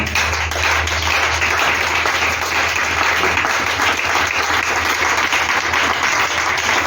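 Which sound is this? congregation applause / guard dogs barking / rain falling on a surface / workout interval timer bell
congregation applause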